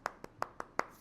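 Five sharp hand claps ring out in a quick, slightly uneven rhythm, close and clear, with no talking between them.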